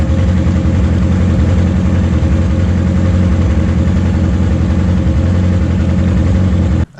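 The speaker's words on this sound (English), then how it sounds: "What I'm going to do now is we're going to run the engine." A Yamaha R6 motorcycle engine idles close by, a continuous low rumble that holds level for several seconds before cutting off abruptly at the end.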